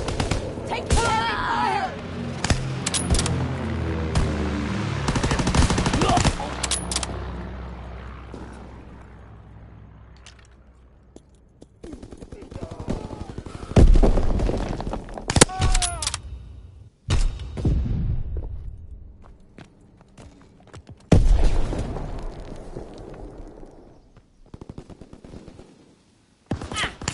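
Gunfire rattles as enemy aircraft are engaged in a World War II video game, with loud bursts and booms separated by quieter stretches of battle noise.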